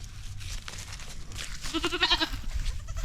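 A young goat bleats in short, wavering cries, close by, with light rustling and background noise around it.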